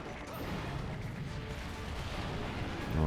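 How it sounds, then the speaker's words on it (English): A large explosion goes off in the video game Monster Hunter Generations Ultimate, a loud, sustained booming roar that fills the whole stretch and swells again near the end, with no talking over it. "Look at the size of that explosion."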